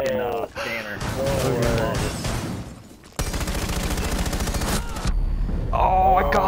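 Video game gunfire as players shoot each other, with rapid bursts of automatic fire and impacts in the middle, and excited voices talking and shouting before and after.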